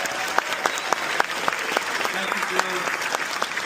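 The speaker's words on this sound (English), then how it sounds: "Y'all give him a round of applause." Audience applause at Coastal Carolina University for the university president, steady crowd clapping with sharp individual claps standing out, while someone briefly speaks over it.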